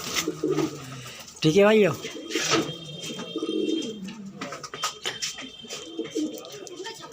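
Pigeons at a sale coop, including a large red-eyed Gola, give a loud, close wavering coo that rises and falls, with other soft bird calls and rustling around it and someone talking over parts of it.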